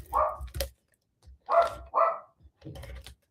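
A pet dog barks close by in a few separate bursts, with short pauses between them. A quieter final yip follows.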